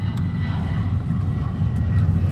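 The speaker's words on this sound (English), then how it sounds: "I can hear a plane taking off, or yeah, there's one taking off right there." An airplane takes off at Da Nang airport in Vietnam, a steady broad low roar that stays fairly loud and even throughout, with no clear talking.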